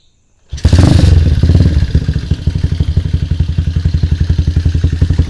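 A motorcycle engine fitted with a PWK carburetor and a short head nozzle starts up and is revved, roaring loud and close before settling into a steady, pulsing idle.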